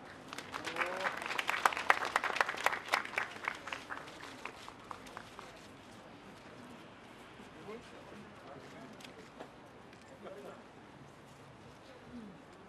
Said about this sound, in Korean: 여러분 다 같이 정말로 장한 길을 간다고 손뼉 한번 쳐줍시다